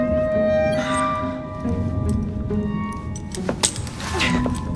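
Keys jangle and clink in an Assassin's Creed Syndicate game scene, a bright metallic rattle that rises toward the end over a steady low background hum.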